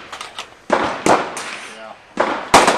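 Handgun shots from a 7.65 mm pistol at a shooting range ring out as several sharp, loud bangs spaced irregularly, with people talking between them.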